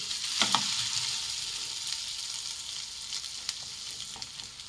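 Rice flour roti cooking in a little oil on a hot tava gives a steady, close sizzle with a couple of sharper pops near the start and no talking.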